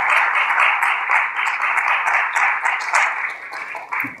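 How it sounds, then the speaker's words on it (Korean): An audience at a founding assembly applauds in a steady, dense wash of clapping that holds through the whole stretch, with no talk over it. "박수로 모시겠습니다."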